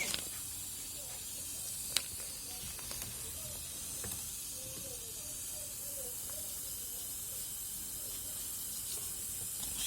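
Baking soda fizzes with lemon salt inside a washing machine, giving a steady soft hiss and crackle with a sharp clink early on, faint and continuous.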